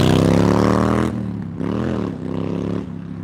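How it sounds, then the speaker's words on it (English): Motorcycle engine revving loudly at a shopping plaza, a strong harmonic roar that drops after a second, then swells in two more throttle blips. "You know he revved his motorcycle just for the live stream to make sure he was heard."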